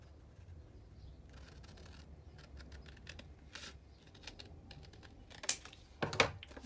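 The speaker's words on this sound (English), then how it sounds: "Okay, and I'm just going to cut it with my scissors." Scissors snip through paper for a junk journal matchbook: faint scattered rustling, then a few crisp, close cutting clicks near the end in a quiet room.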